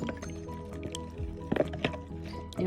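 Water being stirred into harira in a Cookeo pot, soft liquid sloshes and light spoon knocks against the pot, quiet and close.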